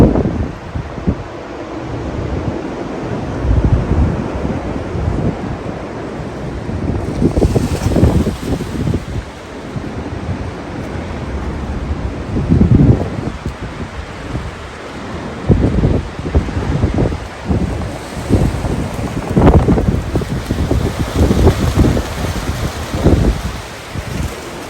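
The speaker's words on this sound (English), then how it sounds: "This is just a gentle breeze." A breeze roars through garden trees, including Japanese maples, in early spring: a continuous rushing wash rising and falling in gusts over about twenty-five seconds, with heavy low buffeting on the microphone.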